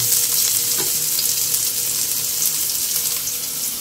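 Garlic frying in hot oil for a coconut-milk snail dish, a steady dense sizzle running close and loud throughout, with a faint scrape of stirring partway through and no talk.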